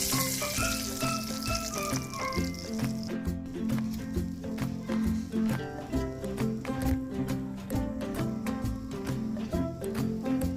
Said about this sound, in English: If the margarine has melted, put the eggs in the skillet.